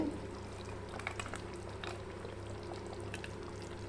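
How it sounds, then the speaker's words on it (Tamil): Crab curry bubbles gently in a clay pot after the stove is switched off, a faint, steady simmer with small irregular pops and gurgles throughout. "இருந்தாலும் மண் சட்டி வந்து கொதிச்சுக்கிட்டே இருக்கு பாருங்கள்"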